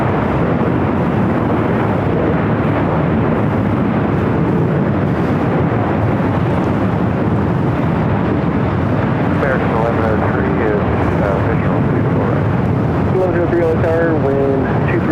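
Heavy jet airliners, including ITA, Air France and a Lufthansa 747, taxi toward takeoff on runway 24 left at LAX, a loud, steady engine roar filling the air, with a faint voice emerging near the end.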